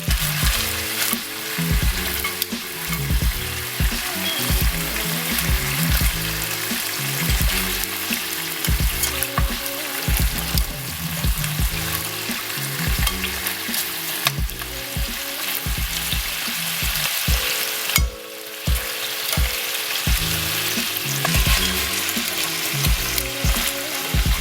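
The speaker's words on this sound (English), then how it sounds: "Amma suggests cooking the ribs in a medium heat for approximately 30 minutes." Sweet and spicy pork ribs fry in a pan with a continuous loud sizzle, broken by frequent close scraping and stirring knocks and a brief dip partway through.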